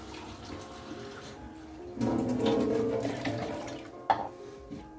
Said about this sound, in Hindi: तो इसमें अब हम पानी ऐड करेंगे।